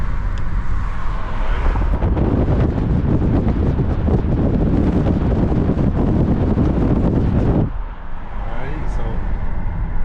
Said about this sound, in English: hopefully there was not a lot of noise from the wind